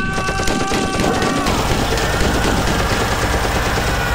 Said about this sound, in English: we have the father of them all right here at the Badlands, the Gatling gun